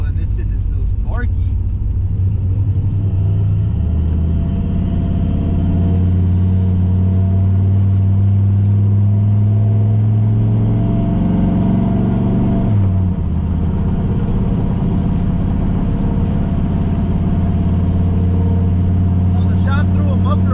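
A turbocharged Chevrolet Silverado truck fitted with a temporary muffler drives along, its deep engine drone steady and loud from inside the cab, with a brief pitch change near the middle.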